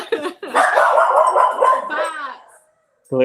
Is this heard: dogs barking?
yes